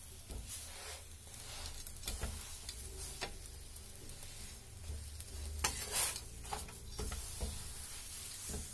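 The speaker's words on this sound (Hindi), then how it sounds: "इसे अच्छे से सिकने देंगे हम दोनों तरफ से" Paratha frying in oil on a hot tawa, a steady soft sizzle with scattered spatters and a few scraping stirs across the stretch, with no talking.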